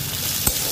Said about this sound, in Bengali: আলুটা আস্তে আস্তে ভেজে নিচ্ছি।